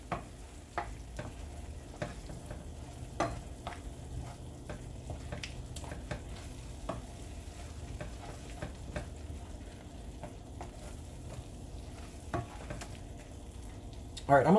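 Sloppy joe sauce with molasses simmering in a pan, a soft steady sizzle and bubble broken by repeated scraping and tapping of a stirring utensil, close and fairly quiet.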